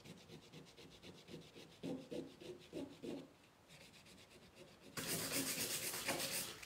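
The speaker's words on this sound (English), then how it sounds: "So I would probably sand this one a little bit more." Rhythmic back-and-forth sanding on a chalk-painted glass honey jar, fast light strokes close by, then a louder, denser rubbing stretch toward the end.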